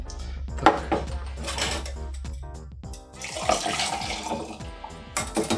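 Hot water runs steadily from a tap to warm a cocktail glass, with a few glassy clinks and knocks of the glass or dishes nearby, and no talking.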